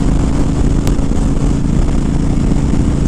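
A Honda Fury motorcycle with a flashed ECU tune cruises at highway speed, around 75 to 80 mph, producing a steady, loud engine drone blended with rushing wind roar that stays even throughout.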